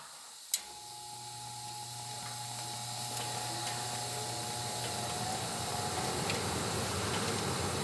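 An old, worn gas furnace with cooked wiring shutting down: a sudden click followed by a steady low hum and hiss that carries on faintly in a quiet room, with no talk.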